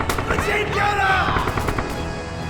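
Machine gun fire in Red Orchestra 2: Heroes of Stalingrad, a dense run of rapid bursts lasting the whole moment, loud and close, with a faint voice mixed in.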